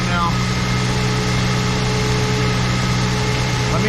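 A 2006 Toyota Tundra V6 4.0 engine idling with an alternator whine, a loud steady close hum with faint sustained tonal whine and no change in level throughout.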